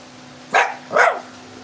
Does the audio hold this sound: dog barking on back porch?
yes